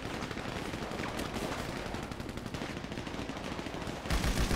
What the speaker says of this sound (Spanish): Me están disparando, tío